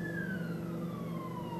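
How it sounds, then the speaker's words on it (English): A police siren wails in the distance, its tone sliding slowly downward over steady low traffic rumble, with no talking. "Really? Police sirens?"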